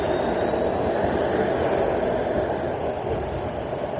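Steady, loud broadband rumble of a subway train in the underground at St. Andrews station on University Avenue, Toronto, a continuous roar that holds for the whole stretch without pause.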